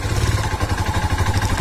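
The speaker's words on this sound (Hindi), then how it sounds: "ये जो साउंड है एग्जॉस्ट की, ये इसकी स्टॉक एग्जॉस्ट की साउंड है" A Royal Enfield Himalayan motorcycle with its stock exhaust thumps close by in a loud, steady low rhythmic pulse at a constant engine speed.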